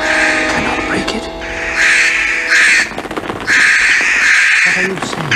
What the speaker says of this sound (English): But my 2 little cage birds can only squawk.